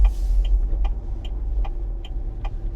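An INEOS Grenadier drives along on a sunny day, its steady low engine and road rumble running continuously, with faint regular ticks recurring about every 0.4 seconds over the drone.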